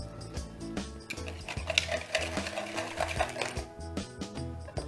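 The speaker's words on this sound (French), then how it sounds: "on va mélanger donc le sucre et les œufs" Sugar and eggs whisked together in a bowl for clafoutis, a fast rhythmic clatter of whisk against the bowl, close and moderately loud.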